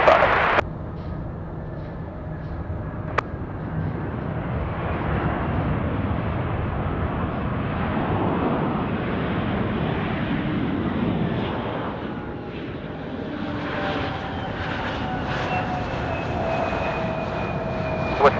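An aircraft rumbles at Chicago O'Hare International Airport, a loud, sustained engine roar holding steady at a distance, with a sharp click early on and no talk over it.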